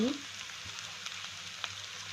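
Half a teaspoon of ghee sizzles as it hits a hot pan of papaya ghonto with potato and lentil bori, giving a short, steady crackling fry at close range.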